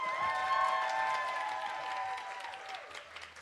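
A live venue audience at The Bedford applauds and cheers for a singer making her debut there, a steady wash of clapping with some whoops that fades toward the end, while tonal music or feedback lines ring underneath.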